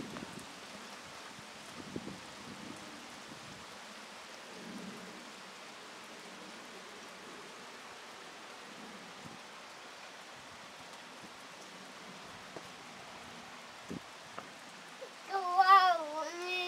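Rain falls outdoors as a faint, steady patter with scattered soft drops, and a voice briefly rises near the end.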